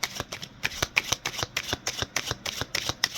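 Tarot cards being shuffled in a steady run of crisp riffling bursts, close and fairly quiet, with no talking.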